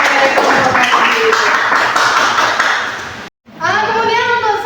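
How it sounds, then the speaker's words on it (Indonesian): Applause breaks out for a group representative after a classroom presentation: dense, loud clapping from a class of students that cuts off abruptly, followed by voices talking. "berikan tepuk tangan untuk perwakilan dari kelompok ganjil"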